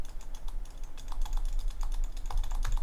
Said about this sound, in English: I am clicking.